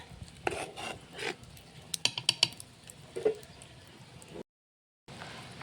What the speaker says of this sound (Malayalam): 1 സ്പൂൺ കൊണ്ട് ഒന്ന് ഇളക്കി ഇട്ട് കൊടുക്കണം.